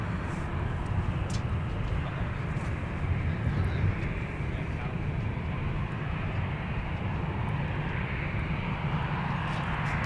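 A Delta heavy jet airliner bound for Amsterdam at Minneapolis–St. Paul airport, heard as a steady, continuous broadband engine roar that stays even in level throughout, fairly distant, with faint talk in the background.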